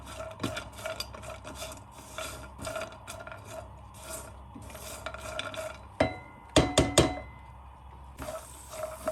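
Nuts frying briefly in a pan while a utensil stirs them, giving steady scraping and clinking with a few louder metallic clatters near the end, close up and without talk.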